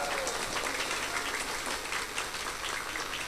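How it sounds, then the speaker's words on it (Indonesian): Audience applause at a religious gathering with humorous sermon in Podosari, a dense sustained clapping wash from a crowd that holds steady throughout. "Saya minta tepuk tangan untuk Allah Subhanahu wa taala."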